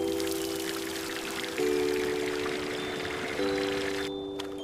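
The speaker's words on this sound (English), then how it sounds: "Water's on its way." Water pouring out in a cartoon, a steady continuous gush through a hose connection into a big puddle meant to freeze for skating, with faint tonal music underneath.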